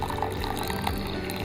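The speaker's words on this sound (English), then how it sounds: "we're gonna cool down the water a little bit by pouring it in the cups" Hot water poured from a kettle into tea cups to cool it for tea brewing, a steady close liquid stream with faint dripping splashes, heard alone without speech.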